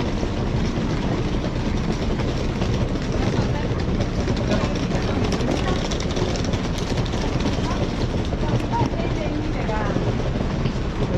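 Steady roaring jet engine cabin noise aboard an Ethiopian Airlines Boeing 737 MAX 800, a loud constant broadband drone filling the whole stretch, with faint voices talking beneath it.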